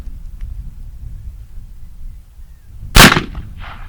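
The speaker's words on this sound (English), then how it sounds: "Now we're going to take this Uberti Remington and take a few shots with it" A single sharp, loud shot from an Uberti Remington 1858 black powder revolver, booming out over steady outdoor wind rumble, followed by a short decaying echo.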